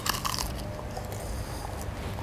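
Dried Italian peppers bitten and crunched up close during a barbecue cooking show taste test, a dense crackling crunch running steadily for about two seconds with no talking.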